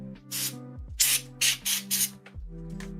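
Five short bursts of aerosol spray hiss in quick succession, fairly close and loud, over steady sustained keyboard notes during a festive tabletop role-playing stream.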